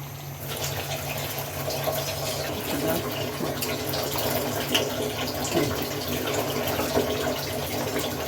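Water poured into a pot of meat to boil, a steady continuous splashing and trickling stream that runs unbroken and fairly close throughout.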